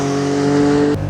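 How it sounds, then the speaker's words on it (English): A Porsche flat-six engine revs hard under acceleration, a loud, close, steady drone that cuts off sharply near the end as the revs drop. "Porsche flat 6 engine."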